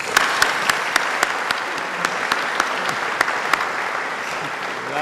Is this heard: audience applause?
yes